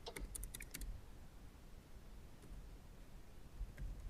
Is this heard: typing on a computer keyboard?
yes